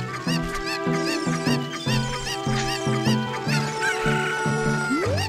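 A cartoonish chicken clucks repeatedly in Zelda: Ocarina of Time, short rhythmic squawks over bright, tonal game music, ending with a rising swoop.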